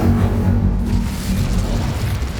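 Casting the Incendio fire spell in Hogwarts Legacy unleashes a loud, sustained roaring whoosh of flame with a deep boom underneath, lasting the whole moment with no talking.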